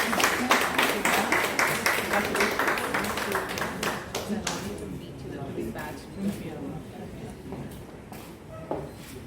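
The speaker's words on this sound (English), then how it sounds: "Nice round of applause" An audience at a beauticians' association event gives a round of applause, distinct individual claps that are loud at first then thin and fade, with voices talking underneath.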